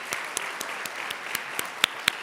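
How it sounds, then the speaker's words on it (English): Scattered applause at a charity pitch competition finals: a thin, steady patter of individual claps at an even, fairly quiet level, with a couple of sharper, closer claps near the end. "Let's give our Leaders Track judges and finalists another round of applause."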